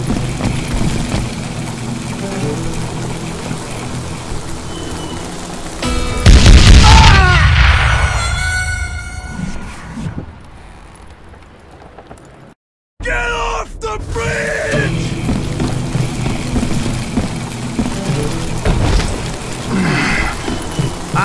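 Dynamite explosion in the video game Call of Juarez Gunslinger: a loud roaring blast that swells and then fades into rumbling and debris. A short silence follows, and then noisy game sound resumes.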